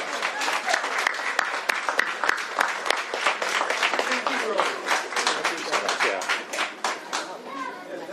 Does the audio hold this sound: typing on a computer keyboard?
no